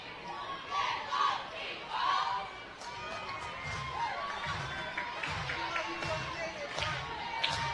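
Softball players in a dugout at an Oklahoma versus Texas A&M Commerce game chant and yell in bursts, a faint rhythmic group cheer rising twice early on, then fading into a murmur of crowd noise.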